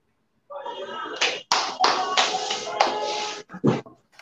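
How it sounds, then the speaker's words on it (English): A four-year-old girl claps her hands for herself in a few short, uneven bursts with gaps between them, close and fairly loud, with adults' voices around the clapping. "Favour, clap for yourself."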